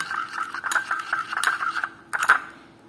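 A spoon stirs an aloe vera gel hair pack in a bowl, close by, with rapid rhythmic scraping and clinking against the sides and a brief pause before a final burst of strokes.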